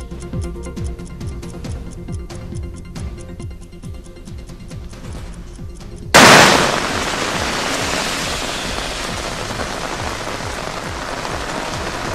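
Heavy monsoon rain in the Western Ghats: soft ticking drips for several seconds, then a sudden loud downpour surges in and holds as a dense, steady hiss of rain on surfaces.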